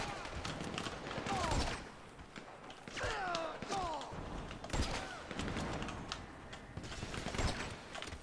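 A player's gun fires in a GTA 5 zombie apocalypse mod: about four loud, sharp shots spaced a second or more apart, with creaks and game noises in between.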